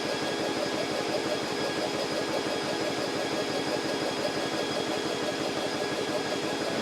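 BSA portable PCP air compressor running while it fills a cylinder, a constant droning mechanical hum with a fast steady pulsing chug, moderately loud and unbroken.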